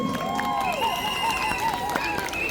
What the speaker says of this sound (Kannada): ಜೋರಾದ ಚಪ್ಪಾಳೆ ಬರಲಿ ಅಲ್ಪೈನ್ನ ತರಂಗಿಣಿ ತಂಡಕ್ಕೆ